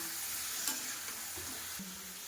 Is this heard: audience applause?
no